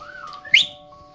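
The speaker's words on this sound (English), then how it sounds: "Good whistle." A person gives one short, bright whistle, a quick rising note that peaks sharply and then drops away, heard close and clear in a quiet room.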